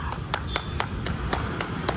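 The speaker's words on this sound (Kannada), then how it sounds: "ಚಪ್ಪಾಳೆ ಗೈಸ್, ಚಪ್ಪಾಳೆ ನಾನೇ ಹೊಡಿತಾ ಇದ್ದೀನಿ" One person clapping hands on a bike delivery day, eight sharp, evenly spaced claps close to the microphone in a steady rhythm.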